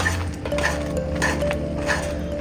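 A spoon stirs cinnamon into peanut cornmeal porridge in a pot, making repeated close scraping and clinking strokes in a steady rhythm against a constant background hum.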